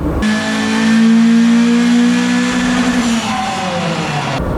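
A Toyota 4AGE engine with bike carburettors roars loudly and steadily at high revs on a dyno, holding a sustained drone before easing off slightly toward the end.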